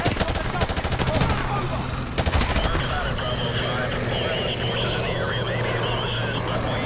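Rapid bursts of M60 machine gun fire rattle in Call of Duty Modern Warfare Remastered, layered over a dense battle din with engine drone and explosions, loud and continuous.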